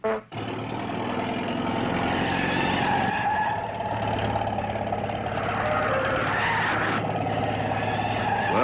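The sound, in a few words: truck skidding and driving up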